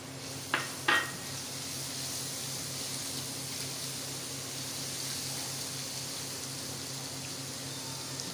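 Garlic paste frying in a pan on low flame, a soft continuous sizzle with two sharp clinks of a utensil against the pan near the start.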